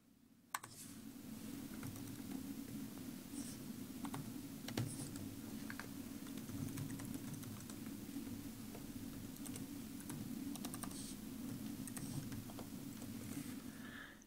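Someone types an email address on a computer keyboard, a soft, steady patter of key clicks over a constant low hum, with an occasional sharper tap.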